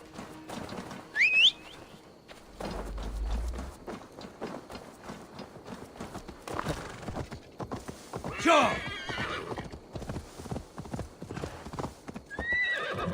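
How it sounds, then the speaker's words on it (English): Horse hooves clip-clop in Assassin's Creed Valhalla, and the horse neighs and whinnies over the galloping, with someone talking over the game sounds. "Come on, horse, you can do it."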